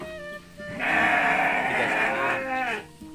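A sheep bleats loudly and close in a pen at a livestock pen in Padalarang, Bandung, one long wavering call after a brief shorter sound, with no talk over it.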